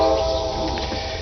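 A train rolls by close at hand with a steady low rumble, and a sustained horn-like tone sounds over it through the whole short moment.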